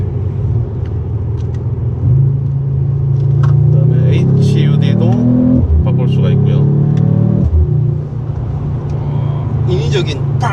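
A Mercedes-AMG CLE53 engine with electronic exhaust rumbles steadily, rising in pitch as it revs, then drops sharply twice, with people talking over it inside the cabin.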